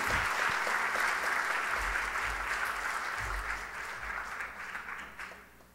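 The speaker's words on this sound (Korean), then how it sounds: "큰 박수 부탁드리겠습니다." Congregation applauding during a church wedding service, a full, dense wash of clapping that stays steady, then thins and fades out near the close.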